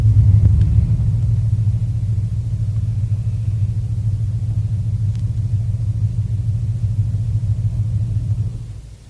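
The Aristide Cavaillé-Coll organ of Parr Hall, Warrington, holds its two lowest pedal semitones to imitate a storm: a deep, steady, loud rumble that sustains unbroken before fading away at the end.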